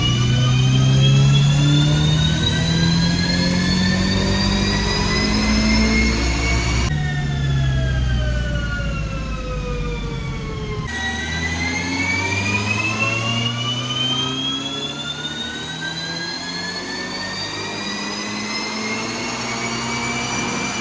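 A Toyota GT86 fitted with a 2.4 short block engine swap revs hard on a dyno. The loud, continuous engine note climbs steadily in pitch, drops briefly partway through, then winds up again, with no talk.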